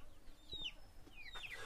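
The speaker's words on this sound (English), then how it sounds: "While goats whinny and foraging chickens are chased away by the group that has gathered around us on the porch, Nirmaya tells us" Foraging chickens in a village in Nepal cluck softly at a distance near a porch, giving a few faint, brief calls over quiet outdoor background.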